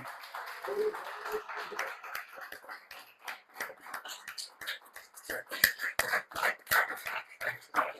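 A church congregation claps along in uneven bursts of sharp hand claps, scattered and fairly quiet at first, then growing denser and louder toward the end.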